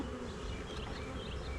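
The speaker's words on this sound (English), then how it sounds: "the bee that got back in my veil" A honeybee buzzes close up inside a beekeeper's veil, a steady, loud drone that fills the whole moment without pause.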